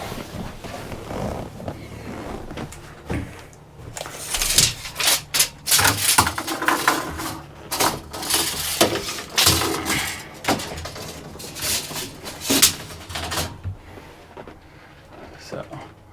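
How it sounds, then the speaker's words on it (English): A tape measure is handled inside an Astro van, giving scattered rubbing, clicking and rattling bursts of varying loudness close by, with brief gaps between them and a quieter stretch at the end. "So let's get my handy dandy tape measure."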